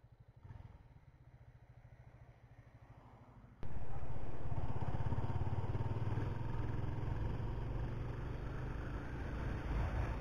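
A 50cc motorcycle on the beach at Itaipuaçu runs at a low idle, then revs up sharply and holds a loud, buzzing, steady drone as it pulls away in gear.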